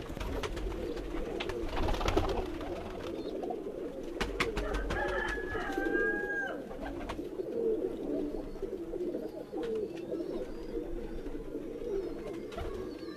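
Pigeons coo repeatedly nearby in soft, throaty rolling calls, several birds overlapping in an irregular rhythm against a low rumbling background.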